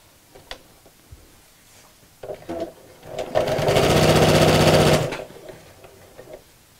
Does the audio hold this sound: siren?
no